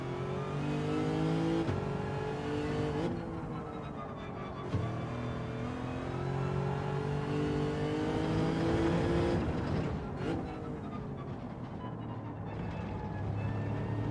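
Gran Turismo 7 race car engine revving up as the throttle goes down, a steady loud mid-pitched drone with rising and falling pitch sweeps and gear-shift breaks, continuous throughout.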